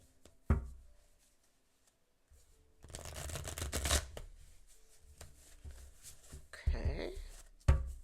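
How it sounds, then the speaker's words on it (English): Tarot cards are shuffled in bursts of papery riffling and tapping between pauses, with a few sharp knocks of the deck, close by, while a person talks at times. "Let me give them a little shuffle."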